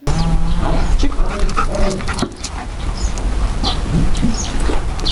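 A German shepherd police service dog whimpers and yips in short excited bursts, close by, while people talk in the background.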